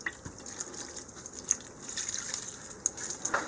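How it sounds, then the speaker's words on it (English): Water trickles and drips steadily into a dry VermiBag Mammoth worm bin, a close, low-level splashing that runs on with a few brighter drops standing out. "Went ahead and put some water in there."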